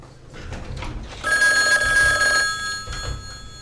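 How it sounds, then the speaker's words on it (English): A telephone rings loudly with a sustained electronic bell tone indoors, lasting about a second after a stretch of low room noise and murmur, followed by a quieter continuation. "Will you pick up the phone, please?"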